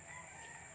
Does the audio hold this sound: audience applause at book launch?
no